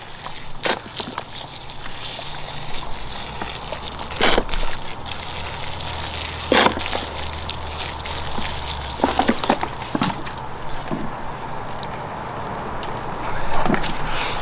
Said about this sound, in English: let me give this a little bit of a watering just to kind of settle some of those rocks in there a little bit